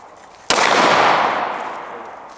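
A single close, sharp gunshot from a handgun at a gun range cracks suddenly, then its echo rings out and slowly fades over about two seconds.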